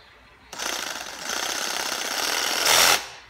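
A cordless reciprocating saw runs on its own with a steady, close buzzing rattle for about two and a half seconds, growing slightly harsher toward the end before it suddenly stops.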